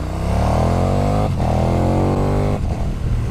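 A KTM Superduke R motorcycle climbs a hill climb road, its engine loud and close, revving up through rising pitch in two long pulls with a brief dip at each gear change.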